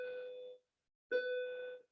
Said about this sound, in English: we'll wait for the bell here